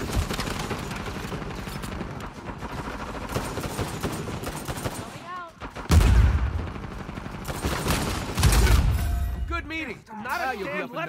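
Gunfire in Uncharted 4 multiplayer: dense, continuous automatic shooting and bursts with booming hits, mixed under game voices and effects throughout.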